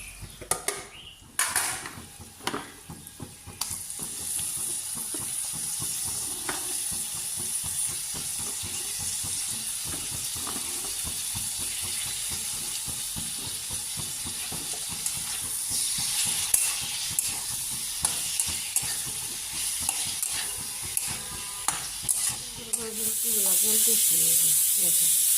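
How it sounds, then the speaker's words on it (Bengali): Bitter gourd and tomato fry in a pan, a continuous bright sizzle and hiss running throughout, broken by frequent small taps and clinks of stirring. "করলা দিয়ে টমেটো দিয়ে ভাজি করি।"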